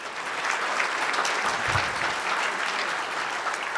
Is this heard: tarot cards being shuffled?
no